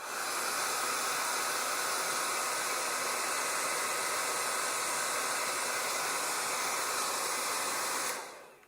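A hair dryer blows with a steady, loud whooshing roar for several seconds, then cuts off abruptly at the end.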